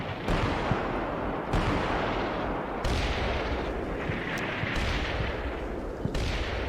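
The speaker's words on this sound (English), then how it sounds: "That's got to be heavy artillery there." Heavy artillery in a Cold War combat game, a run of booming blasts spaced a second or two apart, each a loud broad impact with a rumbling tail over a constant low battlefield roar, no voices.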